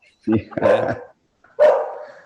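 Dogs on a third-shift patrol bark a few times in quick succession, close and loud, with short gaps between the barks.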